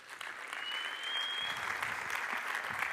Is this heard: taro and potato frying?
no